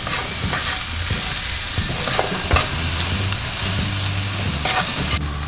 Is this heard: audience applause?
no